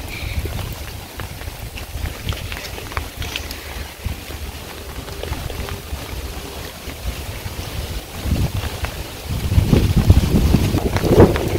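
Strong wind and rain outdoors in a village after days of downpour: a steady, loud rushing roar with buffeting gusts hitting the microphone, swelling heavier near the end, no voices.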